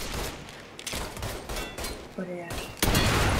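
Rapid bursts of gunfire from a shootout in the video game Mafia 3 crack out in clusters, with a louder volley near the end, while someone talks over the shooting.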